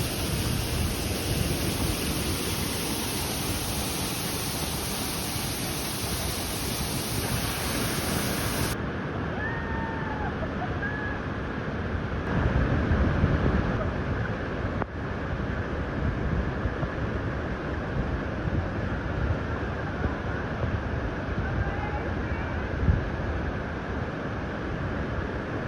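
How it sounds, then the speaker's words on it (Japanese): Waterfall at Lake Paisupok, Sulawesi, roaring steadily into its plunge pool, a dense, continuous wash of falling water heard up close and loud throughout, with no voices. "滝壺行ってみよう。"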